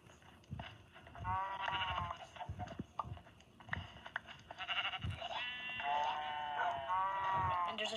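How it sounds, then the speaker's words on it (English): Sheep bleat in short, wavering bursts, with one call early on and a longer run of calls later, moderately close over faint outdoor background noise. "Sheep."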